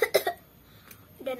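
A child storyteller imitates coughing with a quick burst of three close coughs, then a pause and a final throaty cough, alone without other talk.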